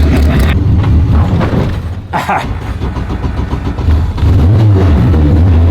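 A Honda built to about 450 wheel horsepower does a burnout at a drag race, its engine revving hard and droning loudly for several seconds, with people talking and shouting over it.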